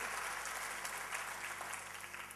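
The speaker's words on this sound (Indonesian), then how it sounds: "Tepuk tangan buat Tuhan kita saudaraku." A church congregation claps together, a dense continuous wash of applause heard from inside the hall at moderate distance, with no voice over it.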